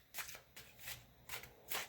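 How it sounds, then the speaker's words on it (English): Small animal oracle cards are shuffled by hand in a quiet room, several soft riffling bursts in quick succession, close and clear with no talking. "And then on to the important part of shuffling."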